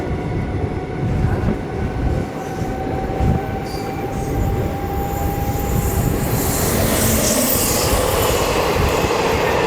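Two ICF passenger trains pass each other on an Indian railway line, sending out a loud, continuous rumble of wheels and carriages with a sustained metallic squeal riding over it and some rattling as they cross.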